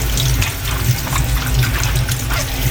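Tap water runs steadily into a sink as a chayote is rinsed under it, a continuous close splashing stream with no talk.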